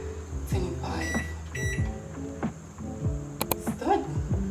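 Indoors, someone presses the buttons of a microwave oven, giving several short, sharp beeps between thumps and handling noise, close by and clear, while a person talks quietly.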